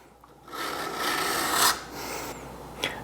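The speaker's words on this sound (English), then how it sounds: "I'm going to do that using this smooth mill file." A smooth mill file rasps along the steel edge of a card scraper in a single long stroke, then a short second pass, loud and close with no talking.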